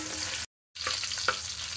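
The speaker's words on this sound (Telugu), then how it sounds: "ఇందులోకి ముందుగా ఫ్రై అయిన ఆనియన్స్లోకి పచ్చిమిర్చి వేస్తున్నానండి." Green chillies dropped into hot oil with already fried onions for chicken dum biryani, giving a steady close sizzle and crackle after a brief silent gap, with a few sharper pops and stirring scrapes.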